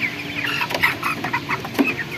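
Broiler chickens on a poultry farm cluck and murmur together in a dense, close chorus, with scattered louder squawks rising above the steady flock noise.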